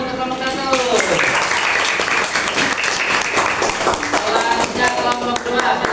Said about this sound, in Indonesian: Beri tepuk tangan untuk kelompok 1.